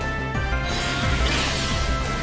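A Pokémon attack landing a smashing blow in Pokémon Battle Revolution, a loud crashing impact over a layered music and effects bed, sustained for a couple of seconds.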